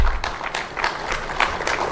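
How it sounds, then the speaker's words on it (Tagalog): Scattered applause from a small group at a Philippine political address on the 2025 budget, a brief patter of claps that stays fairly light. "May pumalakpak po pala pero kakaunti."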